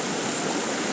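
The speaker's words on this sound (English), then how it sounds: "Water is gushing. You can hear the water like it's a fall." Floodwater after heavy rain gushes along a main road in a steady, loud rushing roar, like a waterfall, with no break or change.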